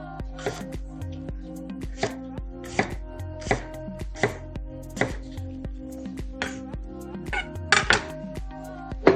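A knife chops half an apple finely on a cutting board, a series of crisp, irregular thuds repeating about once a second, close and clear over a faint background hum.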